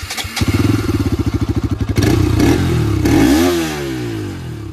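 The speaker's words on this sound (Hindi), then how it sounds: "तो गाइस अब इसका एग्जॉस्ट नोट चेक करो आप।" Bajaj Pulsar RS200 motorcycle exhaust recorded up close at the pipe: a steady pulsing single-cylinder idle, then a burst of revving that climbs and falls before settling back, loud with no talk.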